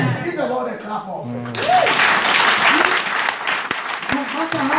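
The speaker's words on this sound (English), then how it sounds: "Give the Lord a clap of" A church congregation at a Pentecostal revival service breaks into loud, sustained clapping after a preacher's voice, which keeps talking over the applause; the claps stay thick and continuous to the end.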